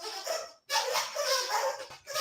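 A dog barking and yipping indoors, two bursts of close, fairly loud canine vocalizing separated by a brief pause.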